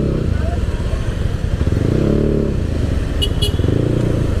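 A Yamaha Aerox scooter with a 200cc bore-up engine is ridden at close range, its steady throbbing, buzzing engine note loud and continuous, rising slightly midway, with talk heard over the running engine.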